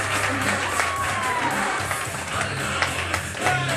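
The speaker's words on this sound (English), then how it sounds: "Keep clapping your hands for Mr. Faceover." A comedy club crowd claps and cheers for a comedian at Comedyworks, with dense, moderately loud applause and scattered whoops sustained throughout.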